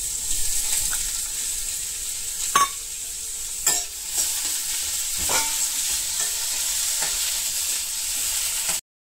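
Onions and curry leaves frying in a pan, a steady close sizzle running throughout with a few sharp scraping stir clicks and spoon taps, no voices.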